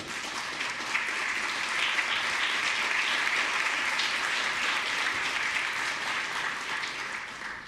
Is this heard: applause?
yes